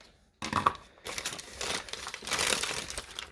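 Paper being trimmed for gel plate image transfers, a short burst of crinkly cutting and rustling that starts abruptly and runs continuously at close range, moderately quiet, with no talking.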